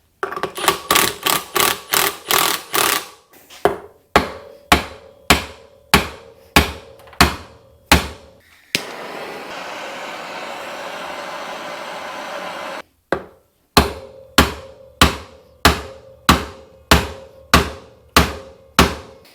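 A hammer strikes the front axle of a vintage Kawasaki KDX 450 woods bike during teardown, with loud, close metallic blows in steady rhythmic runs, broken by a few seconds of hissing noise.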